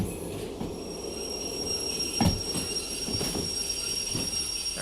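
A steam train rolls along under a light load in the railway simulator Derail Valley, steady low rumbling with intermittent metallic wheel squeals and clunks, moderately quiet and continuous with no talking.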